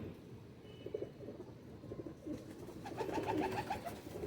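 A royal pigeon coos softly against a quiet, noisy background, with faint low calls early on and a clearer rolling coo near the end.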